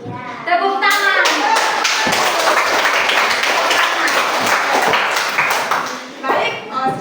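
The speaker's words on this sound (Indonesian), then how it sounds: "Semangat semua? Tepuk tangan." A group of primary school children claps together, a dense burst of many hands lasting several seconds, with children's voices mixed in before it fades.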